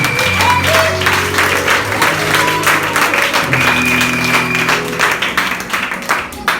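A church congregation claps loudly and steadily, with a dense crowd rattle of applause and voices calling out, mixed with sustained tones that suggest music playing.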